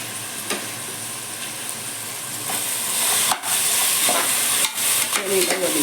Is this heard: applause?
no